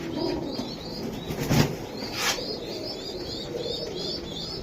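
Budapest pigeons at a pigeon farm flutter their wings in brief bursts, with soft cooing and chirps throughout, close and moderately loud against a steady background.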